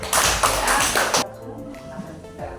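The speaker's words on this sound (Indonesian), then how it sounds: "Tepuk tangan dulu, Pak." Pupils and teacher in a school classroom clapping briefly, a loud cluster of claps lasting just over a second before cutting off into a quieter room with faint tapping and thuds.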